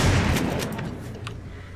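A shotgun fires in a zombie video game: one loud, heavy blast at the start, followed by a rumbling decay and faint trailing clatter.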